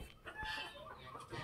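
Chickens cluck in short, quiet bursts close by, a few overlapping calls at a farmyard coop.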